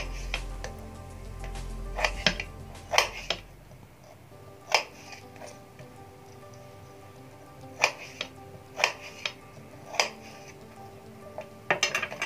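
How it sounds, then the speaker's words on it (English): A knife cuts potatoes into thick finger-shaped fries on a board, giving a series of sharp, close chopping knocks at an uneven pace with quieter gaps between, and no talking. "We'll cut the potatoes into finger shape, and the thickness of the fries is totally up to you."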